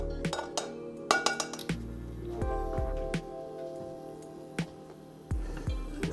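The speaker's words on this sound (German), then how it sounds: "Dann werde ich das einmal gleich vorsichtig umrühren." A spoon stirs sausage and onions in a pan, giving a quiet run of scattered metallic clinks and scrapes with short pauses between them and no voices.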